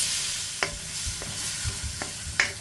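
Beef stir-frying in a very hot wok: a steady broad hiss of sizzling oil with a few sharp scrapes and clanks of the spatula against the metal, close and fairly loud, no voices.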